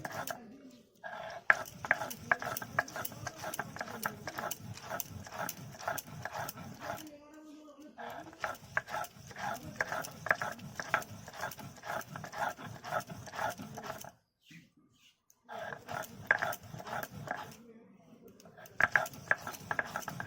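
Green chillies, ginger and coriander leaves are ground into a paste for a tomato chutney. A steady, rapid rhythmic grinding rasp continues close by for long stretches, broken by brief pauses, with someone talking over it.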